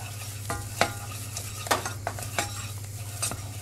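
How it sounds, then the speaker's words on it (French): A wooden spoon beats choux pastry dough hard in a pan for profiteroles: repeated scraping strokes with a few sharp knocks over a steady low hum, close and alone, no voices. "on mélange à la cuillère"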